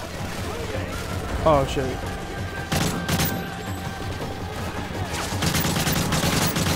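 Gunfire in the Call of Duty Modern Warfare 3 campaign, with bursts of shots and booming blasts mixed with game sounds, while people talk and exclaim over it.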